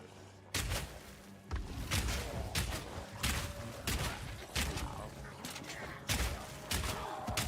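Crossbow bolts firing in the dungeon-crawler game Heroes of Hammerwatch II, repeated sharp thumping shots in a steady rapid rhythm over background game music and effects.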